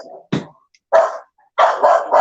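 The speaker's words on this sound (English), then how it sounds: "There's an obnoxious dog barking." A dog gives several loud, close barks in short bursts with brief pauses between them, one sharp yip followed by a string of rapid barks.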